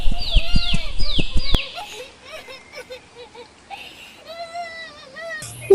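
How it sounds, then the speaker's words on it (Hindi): A cartoon bird cries in an animated Hindi children's story: a series of wailing, sobbing vocal sweeps rising and falling, first loud and rapid, then softer broken whimpers, with a sharp sound at the end. "ये तो रोने की आवाज लग रही है।"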